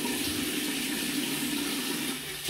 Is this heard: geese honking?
no